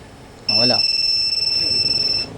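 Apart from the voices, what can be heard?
Yamaha Fazzio scooter anti-theft alarm beeping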